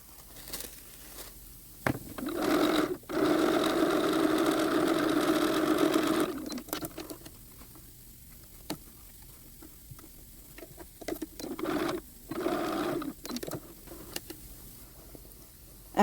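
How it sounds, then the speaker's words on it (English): A sewing machine runs in bursts as it stitches the center back seam of a doll coat lining, with two sustained runs of whirring and short pauses and clicks between them. "we're going to sew our center back seam"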